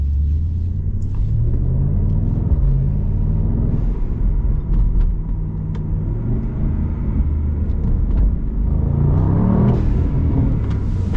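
Brabus SL GTS Rocket car driving slowly around the Brabus facility, a loud, continuous low engine rumble from inside the cabin that rises and falls gently as the car accelerates and eases off.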